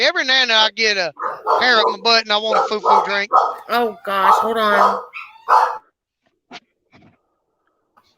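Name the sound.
dogs barking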